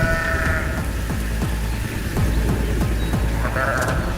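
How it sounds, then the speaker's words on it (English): Bighorn sheep in the Sierra Nevada bleat at mid distance, two drawn-out calls at the start and end, over a steady rain-like wash and soft low rumble. "High in the Sierra Nevada, bighorn sheep navigate cliffs"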